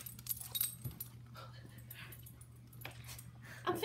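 A rescue dog whimpers softly indoors, with short faint whines over a steady low electrical hum and a brief brighter yelp near the end.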